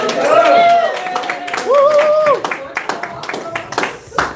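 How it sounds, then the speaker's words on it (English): An audience at a spoken-word poetry slam claps for a poet coming to the mic, with sharp, scattered claps underneath louder voices speaking and calling out. "clap for the poet as they come"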